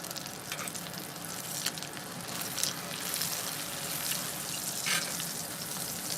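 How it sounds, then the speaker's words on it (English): Dry aged steak sizzles steadily in a hot pan while being basted, a continuous close frying crackle with small spitting pops throughout and no talking. "So we'll just keep basting this till we get our desired temperature."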